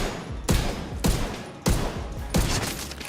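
Rapid bursts of gunfire while shooting at enemies in The Division 2, four loud volleys spread evenly and sounding up close, each one hard-edged and alone with no talk over it.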